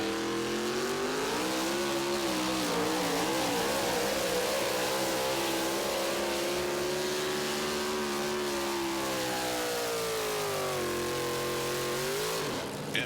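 A diesel tractor-trucks engine roars steadily at full power through a truck-pulling pass at an NTPA event in Tomah, Wisconsin, loud and continuous for the whole stretch, with the pitch wavering slightly as it pulls.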